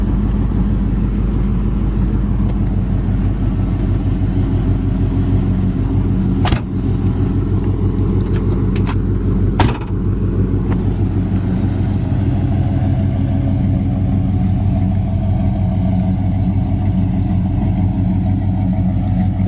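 A 1969 Oldsmobile 442 convertible engine runs steadily at a close, loud idle, its low rumble pulsing evenly throughout, broken only by a couple of brief clicks or knocks.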